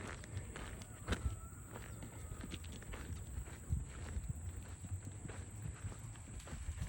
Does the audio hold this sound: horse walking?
yes